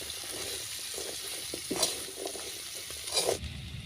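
Vegetables with turmeric and salt being stirred in a pan for an Assamese vegetarian dish, a soft scraping and shuffling with a faint sizzle, in a few irregular strokes and one louder scrape near the end.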